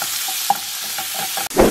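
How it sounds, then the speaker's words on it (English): Steady sizzle of diced chicken frying in hot sesame oil, a continuous crackling hiss with small pops and a brief clatter near the end. "So while our chicken is sizzling away"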